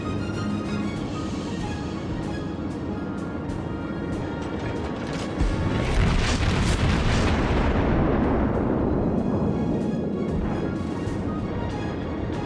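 Naval gunfire from the cruiser New Orleans in the World of Warships video game, with a heavy salvo swelling up near mid-clip and rumbling on over a continuous loud battle din, and no talk.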